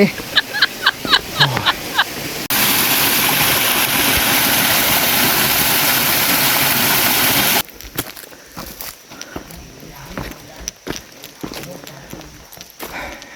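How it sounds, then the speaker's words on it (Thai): A loud, steady roar of rushing water from the third tier of Kao Jone nine-tier waterfall in Ratchaburi, Thailand, between stretches of footsteps and outdoor movement. "เป็นยังไงบ้างน้ำตกชั้นสาม น้ำแรงไหม"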